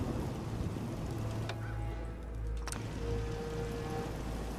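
Steady rain in the video game Fallout 4, a dense continuous hiss with a low rumble underneath, a few faint brief tones and clicks over it, and no speech.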